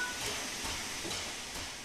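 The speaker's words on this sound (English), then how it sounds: "Open the cylinder cocks to remove any water from the cylinders after the locomotive has been left standing." Cylinder cocks venting steam on the Flying Scotsman steam locomotive in the video game Train Sim World 4, heard as a continuous broad hiss with faint pulsing surges, steady and moderately loud, with no voices.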